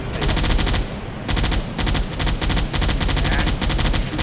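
Repeated bursts of deck-gun fire aimed at an enemy ship in the submarine game Silent Hunter 4, loud, close and rapid, with short pauses between volleys.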